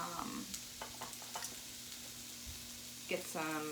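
Red peppers hit hot oil in a pan and sizzle steadily, a close, continuous crackle with a few sharper pops and a brief louder burst near the end.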